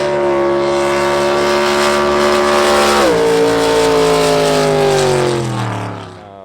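Pro Jet racing jet boat engine on a wet race day in Paris, Texas, roaring loud and close without pause, its pitch holding steady, dipping sharply midway, then falling as it fades slightly at the end.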